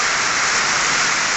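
Steady, dense rainfall hisses close and loud, an unbroken wash of drops with no voices over it.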